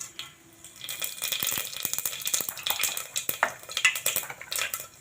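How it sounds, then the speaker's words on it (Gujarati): Mustard and cumin seeds crackle and pop in hot oil for tempering, a dense, busy spatter with light metallic clinks from a pan and spoon, no talking. "તો હવે શાકને વઘારી લઈશ। તેલ મૂકી લીધું છે।"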